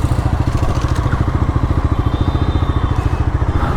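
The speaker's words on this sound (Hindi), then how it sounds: "डोमिनार 250 की टेस्ट राइड लेने के लिए रेडी हो चुके हैं भाई। एग्जॉस्ट साउंड भी भाई बढ़िया है" A Bajaj Dominar 250 motorcycle on a test ride, its exhaust a close, steady low thumping pulse with an even rhythm throughout, loud and alone.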